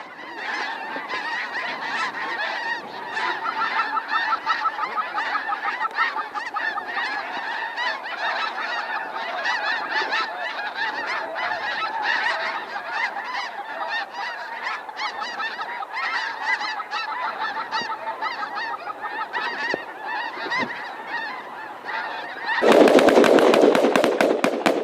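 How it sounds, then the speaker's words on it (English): A large flock of geese honks constantly in a dense, overlapping chorus at a goose-hunting spot. Near the end, a sudden loud burst of shotgun fire cuts in. "There's geese everywhere."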